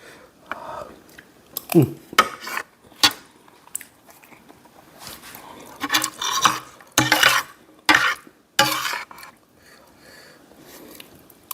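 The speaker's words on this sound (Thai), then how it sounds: "ไข่เขาผสมกับกะทิกับเครื่องปรุงมาค่อยเอาลงมาผัด" Egg mixed with coconut milk and seasoning being stir-fried for a squid hor mok, bursts of scraping and clattering against the pan with faint sizzling, under a whispering voice.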